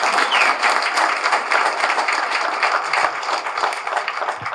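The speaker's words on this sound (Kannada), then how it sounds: "ಬರಲಿ ಒಂದು ಚಪ್ಪಾಳೆ" An audience applauds at a film title launch event, with dense, steady clapping held at a loud level throughout and no voices over it.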